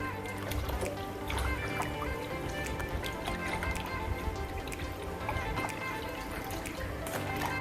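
Water sloshing and dripping as pork is rinsed in a large container, a continuous close splashy wash with small plinks throughout and no talk.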